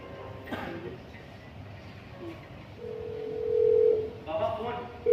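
A telephone tone sounds over a noisy room background with talk, a steady electronic beep swelling near the middle and briefly returning near the end, in a household scene from a Hindi stage drama.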